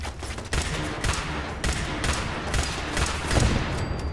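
Weapon fire aimed at a turret in Fallout 4, heavy continuous automatic bursts with sharp repeated cracks, loud and close throughout.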